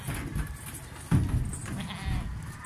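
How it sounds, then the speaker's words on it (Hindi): A goat on a farm bleats in short calls among livestock, with a louder bleat near the middle over rustling, shuffling background noise. "और माशाल्लाह ये बकरी जा रही है"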